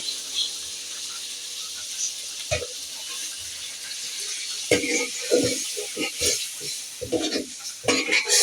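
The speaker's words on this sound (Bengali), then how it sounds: "বেগুনটা ভালো করে কষিয়ে নিয়েছি এখন পানিটা দিয়ে দিব" Water poured into a pan of sautéed eggplant during home cooking, a hissing sizzle and splashing with scattered clatters and stirring knocks, fairly close and moderately loud.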